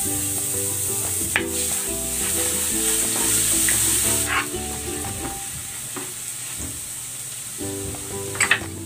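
Garlic sautéing in oil in a pan previously used for pork belly, a steady crackling sizzle with intermittent stirring scrapes, and a louder clatter near the end.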